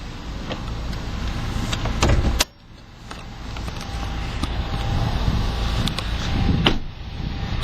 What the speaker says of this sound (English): Your driver's side window is automatic in both directions.